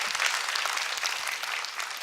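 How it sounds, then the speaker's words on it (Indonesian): A church congregation breaks into steady, dense applause for Jesus, a continuous wash of many hands clapping at moderate loudness with no talking over it. "berikan tepuk tangan buat Tuhan Yesus"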